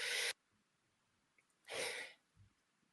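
A single sharp sneeze bursts out, followed by a second breathy burst and a faint snort, with quiet stillness between.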